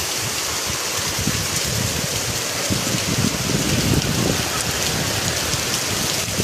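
Heavy rain pours steadily with gusting wind, water flooding up to a gate, a dense, even hiss close by with no pauses.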